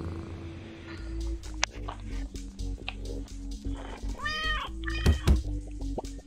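A cat meows several times in the game Turnip Boy Commits Tax Evasion, with short tonal cries over game sounds and scattered thumps, fairly clear at middle distance.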